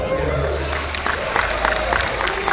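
Audience applause at a motivational talk: a steady, moderately loud wash of clapping with scattered sharper claps and a low hum underneath, continuing for a few seconds.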